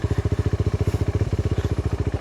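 A motorcycle engine idles nearby at a campsite, with a fast, even thumping pulse and a steady mechanical chug running unbroken, and no talk over it.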